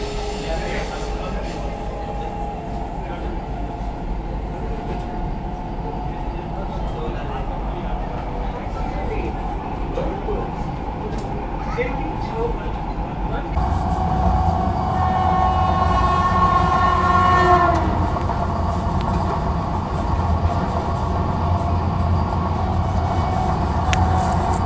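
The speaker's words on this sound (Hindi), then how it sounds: "गांधीनगर जयपुर से अपनी ट्रेन निकल चुकी है और बगल से ये क्रॉस हो रही है पूजा" A superfast train passes close alongside a moving Vande Bharat express with a heavy rumbling roar and rattling wheels that swell louder partway through, steady under continuous on-board noise.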